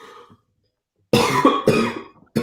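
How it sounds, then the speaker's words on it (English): A few loud, harsh coughs close by, coming in separate bursts after a short silence, with a faint murmur of voices at the very start; a lingering post-COVID cough. "That's my post-COVID cough"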